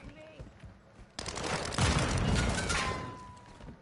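Rapid bursts of Call of Duty: Modern Warfare II Warzone 2 gunfire erupt partway through and keep going, loud and dense, with a few faint background effects before they start.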